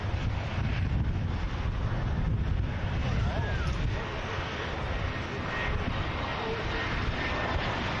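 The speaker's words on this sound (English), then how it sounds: "EasyJet next to arrive in from Paris." A passenger airliner operated by EasyJet arriving at Manchester Airport from Paris, a steady broadband engine roar with heavy wind buffeting on the microphone throughout, while voices talk in the background.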